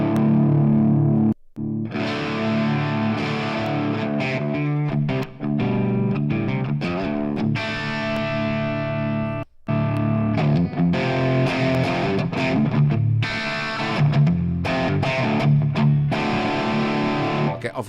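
A heavily distorted electric guitar played through a Fractal amp-modeler preset rings out loud riffs and sustained chords with brief pauses, upfront and alone.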